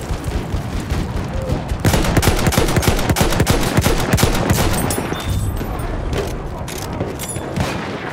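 Machine gun fire in the Battlefield 1 video game: loud, sustained rapid bursts of automatic fire mixed with other gunshots and booms in a dense battle din, with no gaps.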